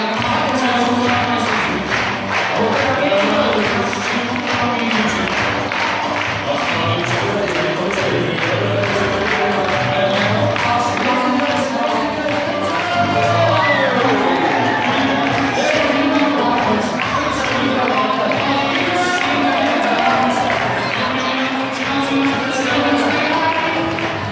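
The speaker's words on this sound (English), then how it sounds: "give him a big round of applause" An outdoor sheep show audience applauds and cheers, a loud, continuous mass of clapping and crowd noise that carries through the whole stretch, with voices mixed in.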